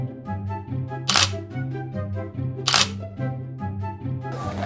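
Camera shutter firing twice during an outdoor photo shoot at Jiuzhaigou, two sharp, bright bursts about 1.5 seconds apart, heard over steady, tuneful background music.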